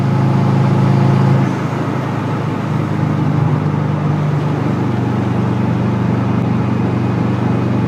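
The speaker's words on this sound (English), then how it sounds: "Moderate load, still not really into boost yet. Really getting the turbo to turn though," A Subaru with an SOHC EJ257 hybrid engine under moderate load, turbo spooling but not yet in boost, a steady loud low drone with a slight shift in tone after the first second, no speech.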